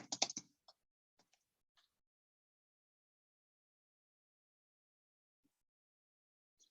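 A short flurry of keystrokes on a computer keyboard, quick soft clicks at the start followed by a few isolated taps, then near silence in a quiet room.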